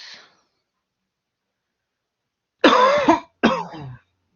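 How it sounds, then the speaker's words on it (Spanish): A person coughs nearby in a quiet room: a faint cough at the start, then after a pause two harsh, loud coughs in quick succession. "Uy, hay que cuidar esa tos."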